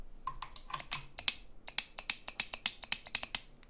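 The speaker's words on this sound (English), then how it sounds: "you can hear it clicking, but it's slightly muted compared to these" A Fanatec carbon fibre magnetic shifter's paddles click in quick, sharp, slightly muted taps, first irregular and then in a steady rapid run, close up with no talk.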